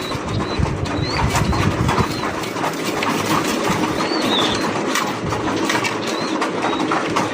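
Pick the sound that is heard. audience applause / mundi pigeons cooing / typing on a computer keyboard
mundi pigeons cooing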